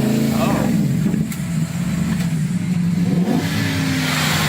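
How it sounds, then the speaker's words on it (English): 2023 Tesla Model S Plaid punched to full acceleration from inside the cabin, a loud steady whine and rush of motor and road noise that swells and holds, with voices talking over it. "we're in the 2023 Model S Plaid, and this is how you punch it"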